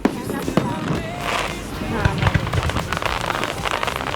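Fireworks burst during a 4th of July Independence Day display, several sharp pops and crackles over a constant crowd and wind roar, with people talking nearby.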